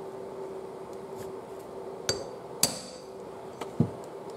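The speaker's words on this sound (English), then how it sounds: "Impact wrench, there we go. But the heads are very soft, and it just takes a little tap." A hammer taps on an impact wrench to loosen soft-headed bolts on a John Deere 1100G. Four sharp metallic knocks come at uneven intervals, close and moderately loud over a steady low hum.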